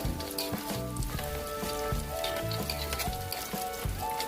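Battered snacks deep frying in hot oil over high heat, giving a dense, continuous crackling sizzle at close range with no voices.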